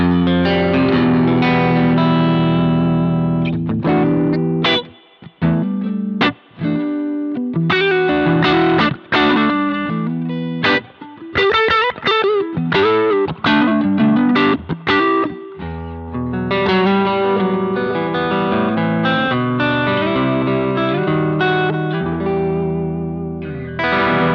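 Electric guitar chords and single notes played through a Boss GX-100's washy spring reverb with little pre-delay and a splashy, drippy tail, continuous and fairly loud, no voices.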